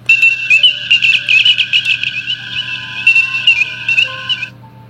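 An electronic Star Trek Enterprise bridge effect plays from a model, a loud string of warbling, chirping beeps and tones at varied pitches that flutters rhythmically before fading out.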